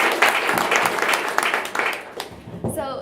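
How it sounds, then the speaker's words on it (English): Audience applauding at a university blockchain summit panel on women in blockchain, a dense burst of clapping that thins out toward the end, with a voice briefly audible beneath it. "let's give a huge round of applause"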